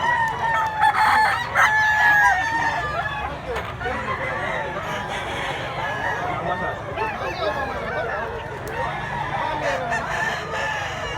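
A rooster crows repeatedly among other chickens at a poultry seller's yard in Mantalungon, Cebu, the calls rising clearly over a busy murmur of voices and farmyard clucking.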